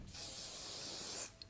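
An anti-humidity barrier hair spray mists over hair in one steady, close hiss lasting just over a second, followed by a tiny trailing puff.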